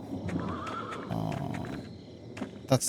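A horse neighs in the medieval video game Pentiment, a quiet whinny followed by a few soft hoof clops and a sharper sound near the end.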